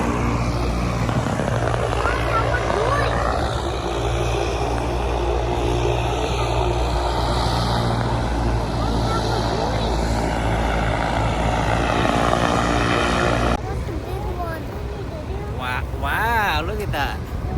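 An airplane lands at Renton, Washington, giving a steady, loud, broad engine roar that shifts in tone near the end, with voices faintly present.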